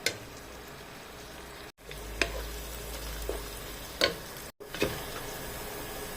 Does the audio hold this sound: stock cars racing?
no